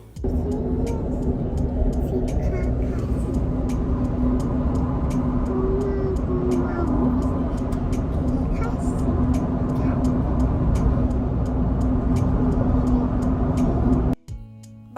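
Steady road and engine rumble inside a taxi cruising along a city road, a continuous low drone with a faint hum, fairly loud throughout, ending with a brief knock near the close while speech is faint or absent.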